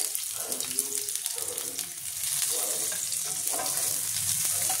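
Capsicum sizzling as it hits hot oil in a home kitchen pan for a chicken roll filling, a steady crackling fry that swells louder partway through, with faint stirring scrapes underneath and no talk.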